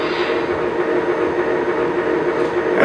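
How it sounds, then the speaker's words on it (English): A Lionel Legacy R-16 Sharknose model train runs slowly along the track, giving off a steady close mechanical whir and hum with no talking. "As we slow the train down and get below speed step 23, the bell comes on automatically and plays until we stop."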